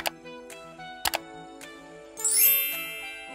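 A notification bell effect rings out as a series of crisp metallic dings at short intervals, followed by a bright shimmering chime that swells and fades.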